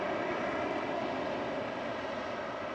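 A Harrier jump jet roars through the air, a loud continuous engine rumble that holds steady throughout with no pauses.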